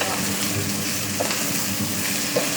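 Burger onions sizzle steadily in a hot pan while being stirred, a dense continuous frying hiss with faint scraping, close and loud, with no talking over it.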